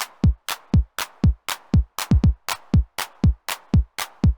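Roland 909 drum machine kick pattern with an extra kick on a sixteenth note just before the second beat, punchy and evenly repeating, loud and dry with no voices.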